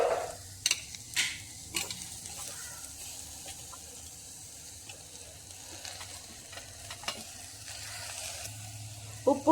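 Onion, chilli and chopped green tomato sauté in oil for a green tomato curry, a soft continuous sizzle broken by several sharp scraping knocks of a spoon stirring against the pan.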